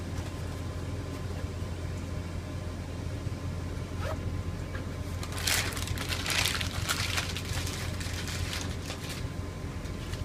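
A zipper on the right side of a medical LifePak bag is pulled open in a few scratchy bursts midway through, over a steady low hum of background noise.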